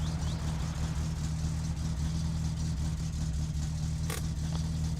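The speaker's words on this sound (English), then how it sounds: "sounds real good with racing exhaust setup and no muffler" A car engine with a racing exhaust and no muffler idles steadily in the My Summer Car video game, giving a constant, close, droning rumble with a brief click near the end.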